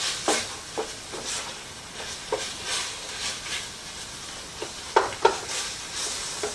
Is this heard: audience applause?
no